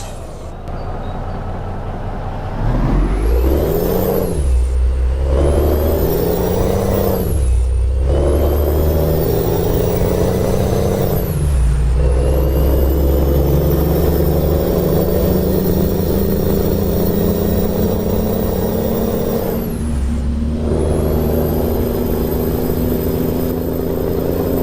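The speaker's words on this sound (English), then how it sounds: "You can actually hear the engine now, and it sounds outstanding." A simulated Peterbilt 359 truck engine drones loudly and runs up through repeated gear changes, pitch climbing and dropping between shifts with a steady diesel rumble in a driving game, and no voices over it.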